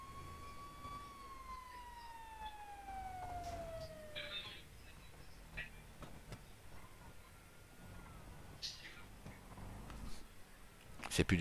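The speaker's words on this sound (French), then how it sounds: "il teste les sirènes seulement" An ambulance siren is being tested, sounding as a brief falling wail followed by a short burst, fairly faint against background noise, with people talking nearby.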